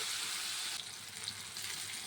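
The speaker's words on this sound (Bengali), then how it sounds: "প্রথমে আমি মাছগুলি ভেজে নেব।" Small mourola fish, salted and coated in turmeric, frying in hot oil in a wok, giving a steady close broadband sizzle that stays constant with slight crackles and no voices.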